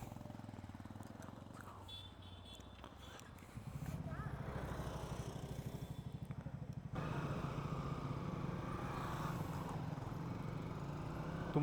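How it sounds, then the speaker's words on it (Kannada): A Triumph motorcycle rides along an offroad hill trail, its engine a steady pulsing rumble that picks up and grows louder partway through, with wind noise over it. "ಸೊ ಗೈಸ್ ಬನ್ನಿ ಇವಾಗ ಟ್ರಯಂಫ್ ಓಡ್ಸೋಣ."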